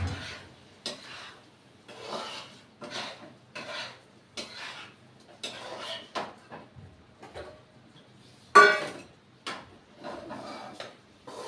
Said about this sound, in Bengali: আমি এবার বেশ একটু ভালো করে নেড়ে চেড়ে থালাতে ঢেলে নেব।